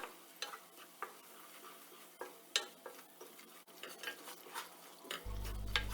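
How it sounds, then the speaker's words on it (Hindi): Sifted gram flour roasting with cardamom in olive oil over a low flame gives a quiet, steady stir with soft scraping strokes and faint sizzle, repeating every half second or so. "अब हम इसे भूनना स्टार्ट करेंगे।"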